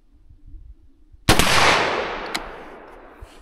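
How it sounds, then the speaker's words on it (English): A single loud .357 Magnum revolver shot fired at a target, with a sharp crack followed by a long decaying echo, then a faint second report, after quiet background. "First shot."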